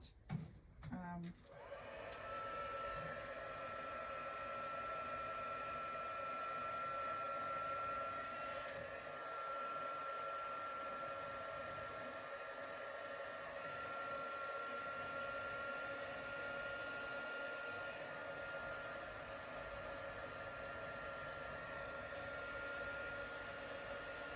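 A heat tool blows hot air to melt clear embossing powder on paper sentiments. It gives a steady, close hair-dryer-like roar that runs without a break after a brief clatter at the start.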